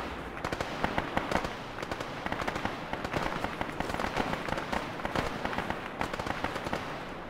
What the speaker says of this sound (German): Schuss aus Richtung Süd.